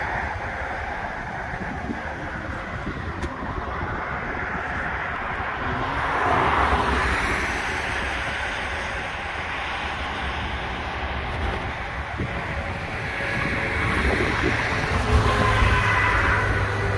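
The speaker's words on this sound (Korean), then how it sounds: "바람이 아주 상쾌하게 시원하게 불고 있습니다." Outdoor wind blowing steadily past acacia trees in full bloom along a roadside, a continuous broad rushing with gentle swells around the middle and near the end, no voices present.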